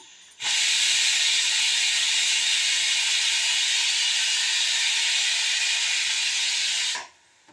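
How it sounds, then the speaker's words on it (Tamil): A loud, steady hiss of steam rushes out continuously for several seconds from a pressure cooker whistle while cooking dal kuzhambu, then cuts off abruptly. "இப்போது குக்கரில் ஒரு விசில் வந்துருச்சு"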